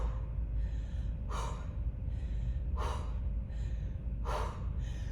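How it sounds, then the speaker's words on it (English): Repeated sharp breaths out during a dumbbell overhead press. Three forceful exhales fall at roughly even intervals over a steady background hum. "Breathe out when you press up."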